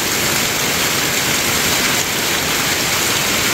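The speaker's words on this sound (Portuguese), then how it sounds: "Sai da chuva, amor." Heavy rain pours steadily and loudly close by at a house during a move, a dense unbroken hiss with no voices.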